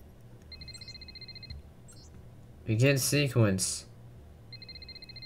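Repeated electronic ringing tone in the game From Earth, a thin high chirping pattern that starts and stops, with a voice cutting in briefly midway.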